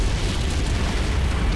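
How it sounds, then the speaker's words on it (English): A dense, roaring burst of explosion-like noise from a simulated explosion effect in the Unreal Engine 4 Infiltrator demo, loud and continuous with a heavy low rumble throughout. "we're going to be showing an explosion which uses some of the same techniques that we use in film visual effects"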